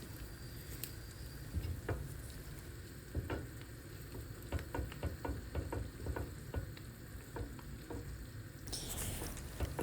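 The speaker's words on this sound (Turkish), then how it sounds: "Bir su bardağı kadar susamı ekliyorum ve karıştırmaya devam ediyorum." A glassful of sesame seeds is stirred in a pan over a steady, soft background, with irregular scraping taps through most of the stretch and a brighter burst of sizzle near the end.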